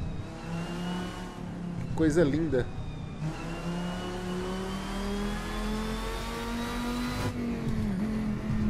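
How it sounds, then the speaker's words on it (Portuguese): A race car engine in the Assetto Corsa video game revs and drones, its pitch climbing steadily through the gears with exhaust rasp, while someone speaks briefly over it in Portuguese. "Dá pra você sentir o escapamento, ouvir o escapamento"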